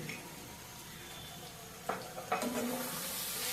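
A paste of ginger, garlic, cumin and green chili fries in a pan for a Ramadan chickpea dish, a steady soft sizzle with a few stirring scrapes and a brighter hiss toward the end.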